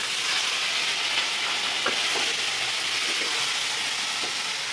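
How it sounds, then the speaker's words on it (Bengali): Chopped tomato frying with onion in hot oil for South Indian sambar rice gives a steady, close, dense sizzle that holds evenly throughout, with a few faint stirring scrapes and no talking. "টমেটোটা ভাজবো"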